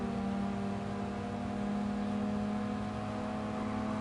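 A race car engine in the Gran Turismo Sport racing game gives a steady, loud, even drone at constant revs with no letup.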